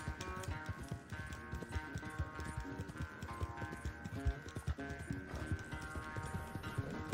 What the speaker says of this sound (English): His horse is probably way quicker than mine.